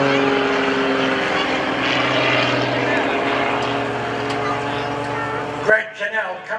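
An MX-2 aerobatic propeller airplane drones steadily overhead during the Greenwood Lake Airshow, its engine tone sustained and loud before cutting off abruptly, with a commentator talking over it.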